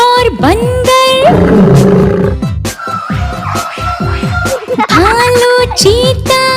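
A lion roars loudly again and again in a song about a jungle safari, its growls woven through rhythmic music with sung vocals.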